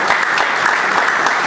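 Audience applause for a law professor taking the stage at a public lecture event in Abuja, a steady dense clatter of many hands filling the room throughout.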